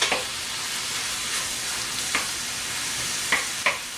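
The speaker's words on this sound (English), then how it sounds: "let our ground beef cook through" Ground beef frying in a pan while it is broken apart, a loud continuous sizzle with a few sharp scraping strokes of a utensil, no talking.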